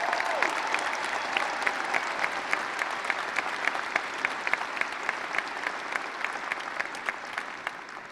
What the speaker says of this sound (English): Let us please take a moment and give a round of applause to the Lakewood faculty and staff.